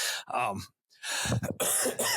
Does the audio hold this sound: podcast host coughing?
yes